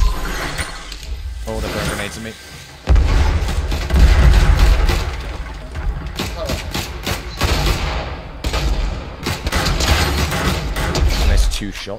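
Gunfire in Fortnite Battle Royale: several sharp bursts and mechanical clatters, loud and close, scattered across a busy game soundscape.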